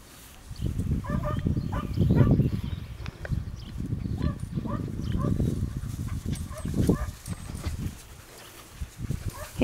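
Welsh terrier puppies about eleven weeks old play together, letting out a busy run of small barks, yips and whimpers up close with scuffling between them and no clear talk.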